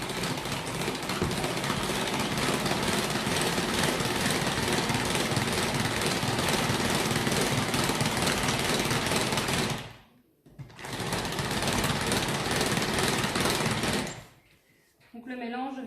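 Electric mixer beating batter for a flourless, butterless lemon cake, a loud continuous whirring drone that stops briefly twice, with a voice talking over it.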